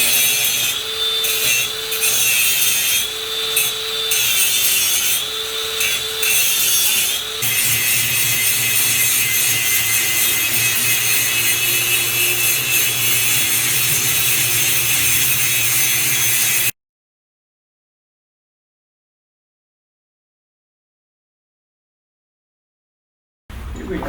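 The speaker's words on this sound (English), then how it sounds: "someone else can get in here with that grinder now" A grinder runs in an abandoned gold mine with a loud, steady whine, grinding against material with some pulsing variation, then cuts off abruptly into silence before a brief restart at the end.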